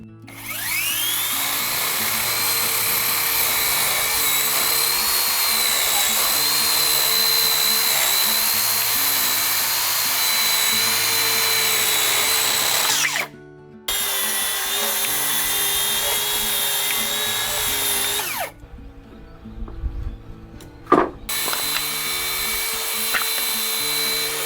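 Power tool trimming the ends of deck boards along a straight-edge guide on an American-style deck build, a loud, steady high-pitched whine of cutting that runs for long stretches with two brief pauses and a clunk near the end.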